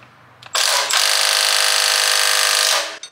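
Pneumatic impact wrench tightening a transverse bolt on a Proton Kelisa rear engine mounting, a loud continuous high-pitched whirring burst of about two and a half seconds after a brief trigger blip, then a short tail-off.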